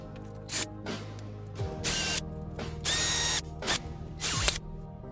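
A drill bores a hole in an Evo X Carbon Creations rear diffuser, in several short loud bursts separated by pauses and quieter mechanical handling sounds.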